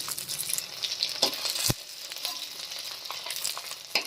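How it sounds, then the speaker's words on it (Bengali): Paneer cubes fry in oil in a pan, a close, steady sizzle with a couple of sharp knocks and scrapes from turning them, no voices. "আর বাকি পনিরগুলো এইভাবে করে ভেজে নেব"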